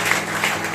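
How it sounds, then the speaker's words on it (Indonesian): Brief applause from a church congregation, a soft, even patter of many hands clapping, somewhat distant, with a faint low hum underneath. "Boleh kita berikan tepuk tangan."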